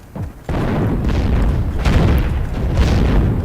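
A grenade goes off in the Heroes & Generals video game: a loud, heavy boom opens a long, dense roar of battle noise that stays close and continuous to the end.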